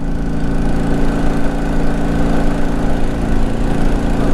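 A motorcycle engine runs close and loud after a carburetor adjustment, holding a steady throbbing drone with slight rises and falls in pitch and no talk over it.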